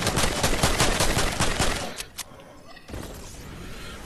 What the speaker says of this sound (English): I'm taking shots at them.